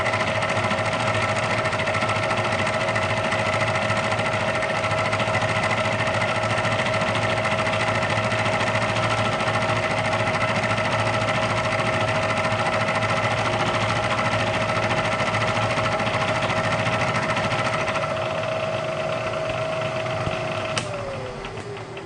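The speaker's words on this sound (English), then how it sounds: "This one, on the other hand, is a 4-flute high-speed steel end mill, so we run this one considerably slower." On a Bridgeport milling machine, a 4-flute high-speed steel end mill cuts at slow speed with a steady, even whine and hum that runs for a long stretch, then drops in pitch as it winds down near the end.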